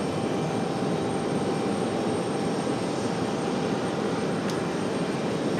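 A jet airliner departing from Raleigh-Durham gives a continuous broadband engine roar at steady loudness, with a brief spoken word near the start.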